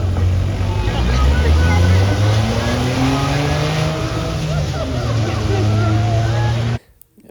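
A little smart car launches off the line in a drag race against a Toyota Tacoma, loud engine roar with rising gear sweeps and a voice talking over it, cutting off abruptly near the end.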